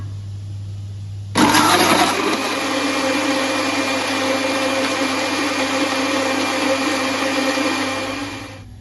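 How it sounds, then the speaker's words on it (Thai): An electric blender whirring on suddenly and running steadily as it grinds Thai curry paste of shallots, fresh chili, shrimp paste, tamarind and turmeric, a loud close motor roar with a low hum beneath, easing slightly near the end. "ปั่นพริกแกงแล้ว"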